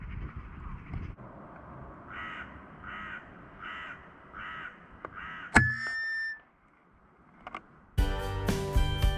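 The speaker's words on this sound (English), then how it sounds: "Ooh, we got a crow now." A crow caws five times in a steady rhythm, moderately distant against quiet outdoor background. A sudden sharp crack and ringing follow, then a brief lull before louder broadband noise.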